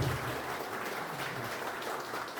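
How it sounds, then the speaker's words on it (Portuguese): Steady applause from an audience at a musical talk in a Spiritist group gathering, a continuous even wash of clapping with no voices over it. "Uma salva de palmas para ele."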